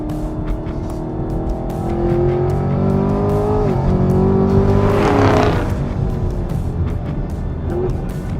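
A high-performance car, a 2020 Camaro ZL1 1LE, Mustang Shelby GT500 or Challenger Hellcat Redeye, accelerating hard on a track with rising engine revs and quick downshifts, loud and close throughout.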